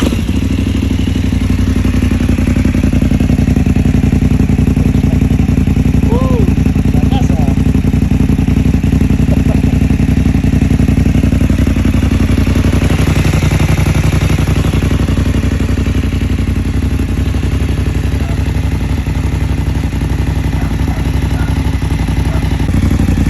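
A BMW F850 GS motorcycle with a midlink pipe and stock muffler, its engine running close and loud in a steady rumbling drone that barely changes from start to finish.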